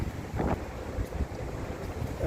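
Strong wind buffets the microphone in a steady, loud low roar on a cold outdoor street, with gust swells throughout and no voices.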